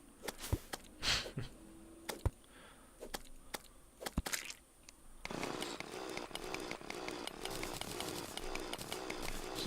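Terraria drill, a game power tool, grinds loudly and continuously in a dense buzzing whir, preceded by scattered clicks and brief game effects.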